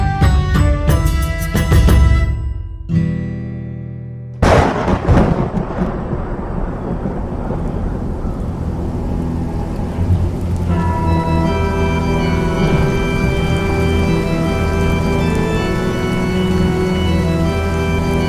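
A heavy rainstorm for a Portuguese RPG audio drama: a loud close thunderclap rolls out first, a second sharp crack follows, then dense steady rain pours on with low rumbling thunder beneath, loud and continuous.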